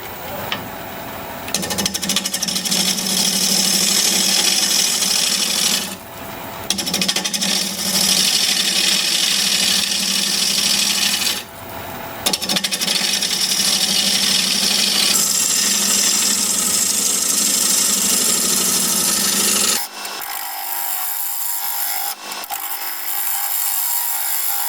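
Wood lathe turning an olive wood bowl, a loud, sustained scraping and rubbing of the tool against the spinning workpiece in long passes with brief pauses between them, then a quieter stretch near the end.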